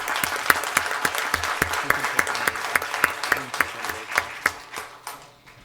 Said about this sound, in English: How about a round of applause for Christy?